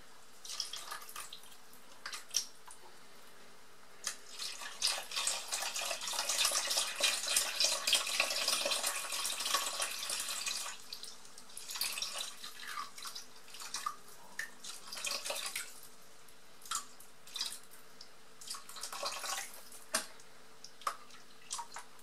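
Oat milk pours into a large 4.3-litre Tupperware salad bowl, a faint splashing stream swelling in the middle and then breaking into intermittent trickles and drips, with no talking.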